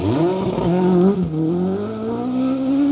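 Chevette rally car on a Woodpecker Rally stage, loud and close, its engine revving hard with rising and falling pitch as it speeds past, then settling into a steady drone, with no talking.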